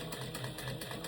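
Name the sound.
sewing machine top stitching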